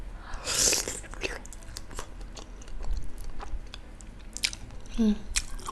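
Someone eating jumbo siomay dumplings with plenty of peanut sauce, close wet chewing and soft crunchy bites repeating throughout, with small mouth sounds between them.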